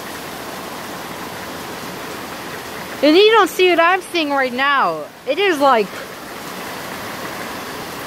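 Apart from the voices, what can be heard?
heavy rain pouring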